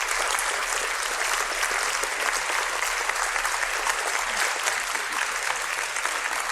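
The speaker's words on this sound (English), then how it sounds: "the last round of applause" Sustained audience applause at a lecture conversation event, dense and even clapping from a large crowd that holds steady throughout.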